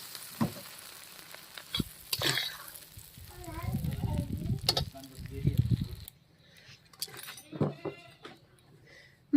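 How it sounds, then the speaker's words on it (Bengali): Fish roe frying in oil in a pan while being stirred, with soft sizzling and scattered clinks and scrapes of the utensil, and a voice talking over parts of it. "এবার আমি ভালো করে নেড়ে চেড়ে নেব আমার মাছের ডিম ভাজা হয়ে গেছে"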